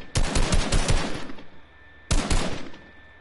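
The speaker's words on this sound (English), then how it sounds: "I'm making them waste their ammo on me." Enemy gunfire in a video game: a rapid automatic burst of about eight loud, close shots, a brief pause, then a second shorter burst of several shots.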